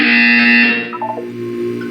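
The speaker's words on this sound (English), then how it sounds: "You will hear a buzzer." A loud, harsh electronic buzzer from the game Portal 2 sounds for under a second, then cuts to a short descending series of tones and a quieter hum.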